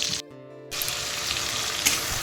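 Fish fries in hot oil with a bright, continuous hiss that cuts out briefly near the start, then resumes steadily with one small pop.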